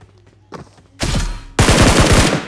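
Gunfire from the mobile game BGMI with a shotgun in hand: two loud, close bursts of rapid overlapping shots, each lasting about half a second, after a faint rustle and thud.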